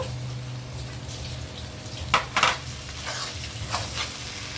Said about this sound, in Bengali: এবার এরকম ছোট ছোট করে টমেটো কেটে রেখেছি টমেটো কুচিটা দিয়ে দিব